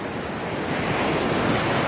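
Big ocean waves and surf roar continuously along a shore, a dense, loud wash of noise with wind buffeting the microphone.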